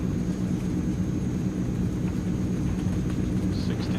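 Transall C160 cargo plane on its takeoff roll in Microsoft Flight Simulator, a steady, heavy low engine rumble with a faint whine running throughout, no voices.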